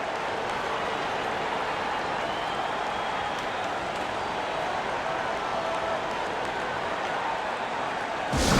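Steady crowd applause and cheering in NBA 2K23 fills the whole stretch, a dense continuous roar that swells slightly at the very end as the Indiana Pacers are introduced.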